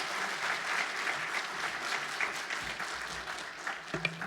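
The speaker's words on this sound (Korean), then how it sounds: "우리 나오실 때 환영의 박수, 또 함께 영광의 박수 함께 돌리겠습니다." A church congregation at a Sunday service in Melbourne claps to welcome the pastor, a steady, moderately distant round of applause that continues throughout.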